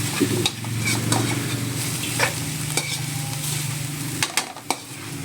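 Beaten egg stirred in a hot frying pan for bitter melon sauté, a soft steady sizzle close by with scattered sharp clicks and scrapes of the utensil against the pan.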